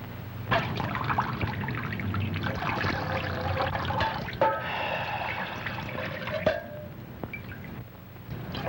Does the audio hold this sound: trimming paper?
no